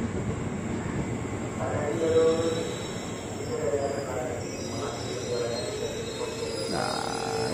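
A KRL commuter train at Depok station, a low steady rumble of cars rolling along the platform with faint squealing tones, heard at moderate distance beneath continuous talk.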